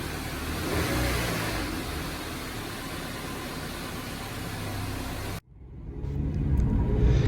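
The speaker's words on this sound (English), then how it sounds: "I'm just gonna rev it up one time here" A 2018-2021 Honda Accord 2.0 engine with an aftermarket air intake roars loudly at high revs, drops off abruptly, then climbs again as it revs back up.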